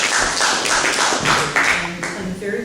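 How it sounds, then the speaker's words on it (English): Audience at an award ceremony in Amherst, Massachusetts claps, a moderate scatter of hand claps with a voice talking over it and the clapping thinning toward the end. "please round of applause for"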